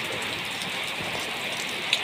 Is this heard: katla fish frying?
no